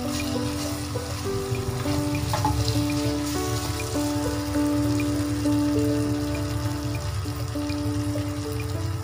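Ginger and garlic frying in a pan for Hyderabadi mutton marag, a steady close sizzle with faint crackles and a continuous hum underneath, no talking.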